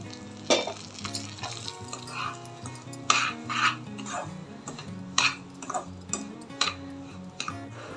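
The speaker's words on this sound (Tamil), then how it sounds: "ரவையை இந்த கீழே வறுத்து எடுத்துக்கலாம்" Semolina roasts in ghee in a pan for rava laddu, with a soft steady sizzle under repeated scraping and clinking strokes of a ladle against the pan, close and moderately quiet.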